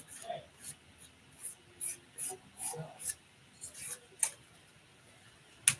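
A coarse nail file rasps back and forth across nails in short, rhythmic strokes, soft and close, with a few sharper scrapes near the end.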